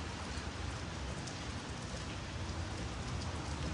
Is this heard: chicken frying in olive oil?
no